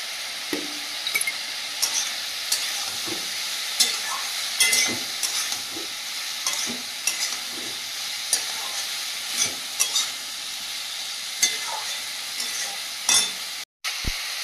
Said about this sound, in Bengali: সবজিটা বেশ ভালোভাবে কষিয়ে নিয়েছি